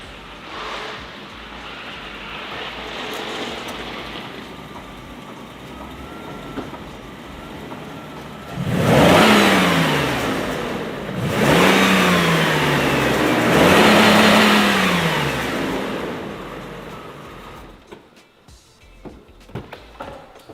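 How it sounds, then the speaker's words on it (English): A Mercedes W140 S600 V12 engine idles quietly, then revs three times in quick rising bursts in park, loud and close, before dropping back to idle. "If you put the Mercedes in park and you rev it, it stops at 4 grand."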